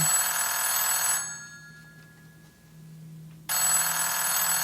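An old house telephone in a radio drama rings with a bright, loud bell, two long bursts separated by a quiet pause of a few seconds, with no talking over it.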